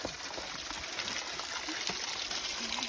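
A constant rushing wash of falling water, full and steady throughout, with no voices over it.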